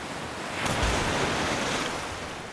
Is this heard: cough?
no